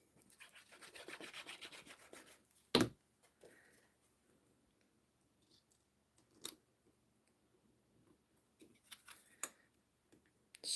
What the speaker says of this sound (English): Give it a good rub.